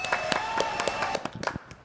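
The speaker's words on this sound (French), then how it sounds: "applaudissements pour David, c'est le réalisateur du GLPP." Studio audience applauding on a French talk programme, a dense patter of close claps lasting under two seconds, with faint steady tones underneath.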